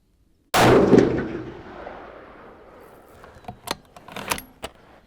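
A single sharp rifle shot rings out loud and close, fired over a MagnetoSpeed chronograph with a Masterpiece Arms rifle, its long reverberating tail decaying at an outdoor range, followed by a few faint clicks and handling noises.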